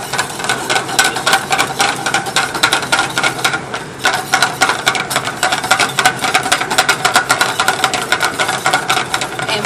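Butter being whisked into hot mignonette in a pan on a switched-off stove, with a fast, steady metallic clatter of whisk strokes, close and loud throughout.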